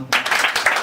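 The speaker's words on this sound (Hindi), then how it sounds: "एक बार होस्ट के लिए ताली बजाना यार।" An audience at an open mic comedy night claps for the host in a brief, dense burst of applause with irregular swells, fairly close and loud.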